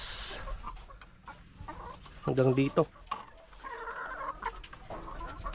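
Chickens cluck close by, with a loud burst of squawking in the middle, while a person speaks quietly over the birds.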